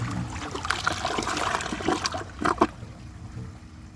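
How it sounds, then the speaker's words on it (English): An American Standard Homestead VorMax toilet flushes with a plushie in the bowl, giving a close, rushing swirl of water that trickles and gurgles before fading into a quieter drain. "Toilets Rock asks if I can flush a plushie"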